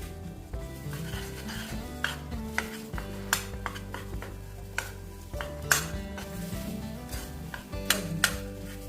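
Banana pieces melt in a pan for a Navratri fasting shira while a spoon stirs and scrapes, giving repeated metallic clinks and knocks over a low, steady sizzle, with no talking.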